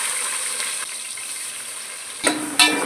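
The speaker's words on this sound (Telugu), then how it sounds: "ఆయిల్ అయితే వేడెక్కింది. ఇప్పుడు ఉల్లిపాయలు పచ్చిమిరపకాయలు వేసేసుకుందాము." Onions and green chilies dropped into hot oil for a mutton curry, giving a steady close sizzle and crackle with a couple of louder bursts near the end.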